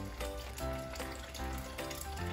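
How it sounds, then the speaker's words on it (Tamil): Water poured into a cooking pot of vegetables for Jaffna-style tamarind porridge, a soft continuous splashing and trickling that runs steadily for a couple of seconds. "நான் தண்ணி சேர்க்கிறேன் இதில்"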